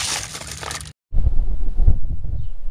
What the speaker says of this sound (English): we got a little bit of a wind